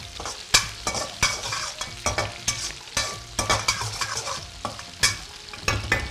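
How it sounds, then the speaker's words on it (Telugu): Chopped garlic and ginger sizzle in hot oil in a pan, a steady frying hiss punctuated by repeated scraping stirs at an uneven rhythm, close and fairly loud with no talking. "ఈ అల్లం ముక్కలు వెల్లుల్లి ముక్కలు వేగుతున్నాయి కదా"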